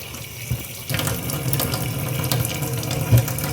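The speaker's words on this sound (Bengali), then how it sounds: "চিংড়ি মাছটা ভালো করে একটু ধুয়ে নিন" Tap water gushes into a sink while prawns are washed, a steady close rush that swells louder after a moment, with small knocks and handling sounds underneath.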